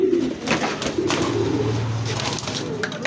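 Roller pigeons coo close by in soft, repeated, throaty rolls, with low murmuring coos running on through the short stretch.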